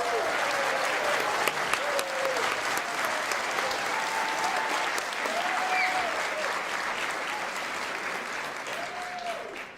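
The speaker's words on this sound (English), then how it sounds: "Let's give him a big round of applause." Sustained applause from a large crowd at a political State of the District event, steady and dense throughout, with a few cheers and voices rising above the clapping.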